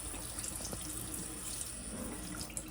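A water tap runs into a sink at home, drawing lukewarm water for houseplants, producing a steady close hiss of flowing water throughout with a few faint clinks and no talk.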